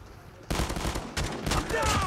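Shotgun blasts in COD Mobile: a quiet start, then a loud burst of shots and rumbling gunfire with a few sharp reports close by, and no talk over it.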